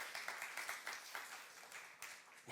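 Brief, quiet clapping from a church youth congregation during a sermon, a soft patter of many hands heard at some distance for a couple of seconds.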